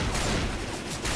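Gunfire in the video game Left 4 Dead 2 comes as a dense, continuous burst of rapid shots, loud and busy, with no voice heard over it.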